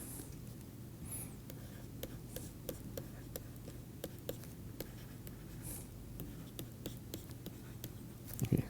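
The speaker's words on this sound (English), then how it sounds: "let me just write it in vector form here for simplicity" Chalk or marker tapping and scratching on a board while writing equations in a heat transfer lecture, a steady series of faint, close clicks and strokes at an irregular rhythm over low room hum, with no talk.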